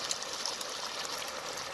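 Water gushes from a borewell without a pump, a steady close rushing and splashing hiss that runs unbroken throughout with no voices.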